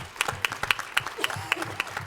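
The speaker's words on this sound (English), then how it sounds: "So can we give them a big round of applause, please?" Audience applause at a clinical trials conference session, a moderate room full of people clapping with scattered sharper claps standing out, somewhat distant.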